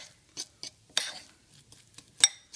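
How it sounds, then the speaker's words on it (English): A fork stirs melted Reese's no-bake dessert bar mix in a bowl. It makes a handful of light scraping clinks against the dish in an irregular rhythm, fairly close and quiet. "so it says just stir it up with your fork."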